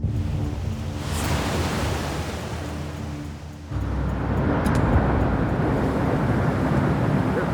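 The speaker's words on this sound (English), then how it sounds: "That's the storm surge coming in." Hurricane Katrina's storm surge rushes in as a loud, continuous roar of churning water and wind, which swells further after a brief dip midway, with no voices.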